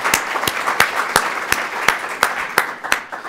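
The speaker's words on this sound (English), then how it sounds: "a round of applause" A room of attendees at a city club annual meeting gives a round of applause. The clapping is sustained and fairly close, with sharp, regular louder claps standing out over a dense wash, and no speech.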